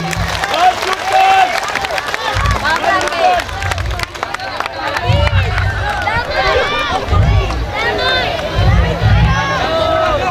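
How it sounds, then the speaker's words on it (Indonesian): An audience at a religious talk applauds as the regent and deputy come forward, scattered clapping and crowd murmur under loud amplified speech and excited voices. "Tepuk tangan dulu untuk beliau."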